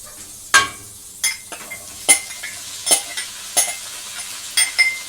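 Corn grits frying in a skillet in a quarter stick of butter, a steady sizzle punctuated by a series of sharp spoon scrapes and clinks against the pan roughly every half second to second, close and fairly loud.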